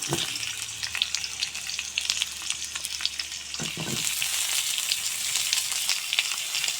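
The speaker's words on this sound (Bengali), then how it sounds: "তেল গরম হয়েছে এখন আলু বেজে নেব" Potatoes fry in hot oil with a little turmeric and salt, a dense, even crackling sizzle close by that keeps steady throughout, with a brief utensil knock partway and no talking.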